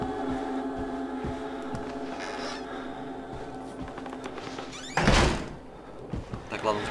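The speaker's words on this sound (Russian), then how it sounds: "Так, ладно, закрываем дверь." A door swings shut in the horror game Outlast with a loud, sharp thunk near the middle, set against a steady droning game ambience while someone talks throughout.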